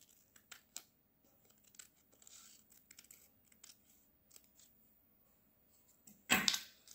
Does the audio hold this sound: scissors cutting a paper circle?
yes